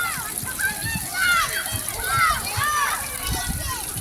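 Children play and splash in a water fountain, with uneven close splashes and sloshing mixed with excited kids' voices and adult talk.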